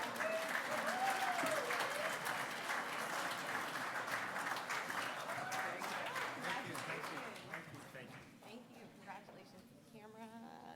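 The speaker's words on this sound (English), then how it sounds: "another round of applause for AFCOM Potomac chapter" A crowd applauds at the 2021 NVTC Virginia Data Center Awards, steady clapping from many hands that fades after several seconds while voices talk over and after it.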